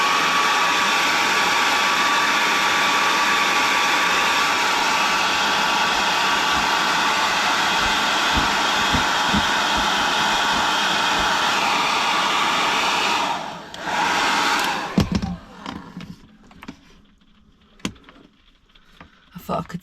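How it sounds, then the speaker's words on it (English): A hair dryer blowing steadily and loudly at close range, a continuous whirring roar that lasts about thirteen seconds before it cuts off, leaving scattered handling clicks and faint room sounds. "Back with the hairdryer."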